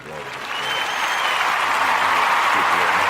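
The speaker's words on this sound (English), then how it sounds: "So we got to give a round of applause for that." A crowd breaks into applause that builds within the first half second and stays loud and steady, with voices mixed in.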